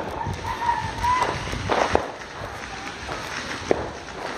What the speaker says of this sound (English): All these noises, all these fireworks going off, they just sound like bombs.